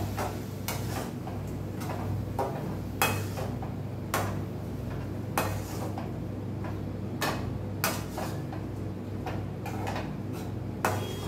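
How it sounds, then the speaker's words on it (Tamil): Paneer being stirred with a curd mixture in a pan, heard as sharp spoon-on-pan clinks and scrapes recurring every second or so over a steady low hum, with no talking. "இப்போது நம்ம அந்த மிக்ஸ் பண்ணி வச்ச தயிர் மிக்ஸு இதில் போட்டு நல்லா மிக்ஸ் பண்ணி வச்சுக்கலாம்"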